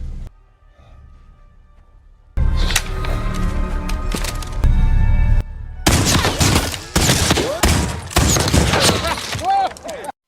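Gunfire in a Western film scene from The Magnificent Seven: after a quiet start, dense bursts of loud, rapid shots and clattering impacts pile up over a dramatic movie soundtrack.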